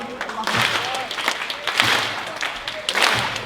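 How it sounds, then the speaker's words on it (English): A crowd claps together in bursts, with swells of clapping and some voices mixed in, fairly close and lively. "They're clapping in time."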